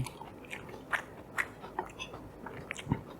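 Close, crunchy chewing and biting of food during a meal, with scattered sharp bites and soft mouth sounds at an irregular pace, fairly quiet with no talk.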